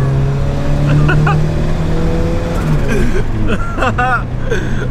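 Turbocharged Mazda Miata engine pulls at quarter throttle, a loud, close, steady drone with rising pitch sweeps as it accelerates through the gears.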